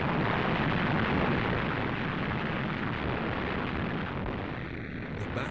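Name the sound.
artillery bombardment explosions, El Alamein 1942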